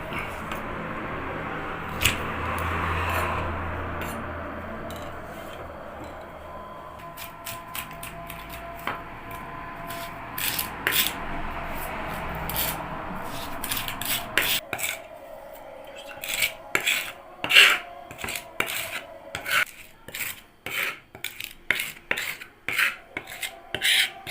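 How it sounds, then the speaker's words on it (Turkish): Garlic cloves are crushed for a chicken soup, a scraping, rasping grind that gives way to a run of sharp irregular clicks and taps, fairly quiet and close. "Şimdi sarımsaklarımı ezeceğim."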